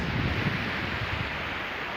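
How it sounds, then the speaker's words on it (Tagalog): Big ocean waves at a beach wash in as a continuous broadband roar, heavily mixed with gusting wind buffeting the microphone. "ang laki ng mga alon"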